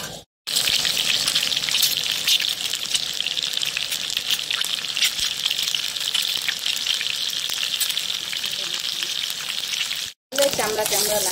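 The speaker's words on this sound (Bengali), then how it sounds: "ভাজা করে ভেজে নিন, একটু হালকা করে ভেজে" Eggs frying in a pan for an egg curry give a steady, loud, crackling sizzle that runs almost unbroken, with two brief drops to silence.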